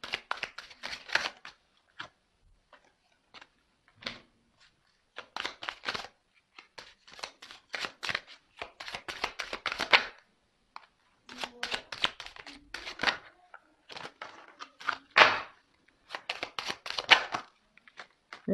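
Tarot cards being shuffled in repeated bursts of quick, crisp riffling and slapping, close and fairly loud, with short pauses between the bursts.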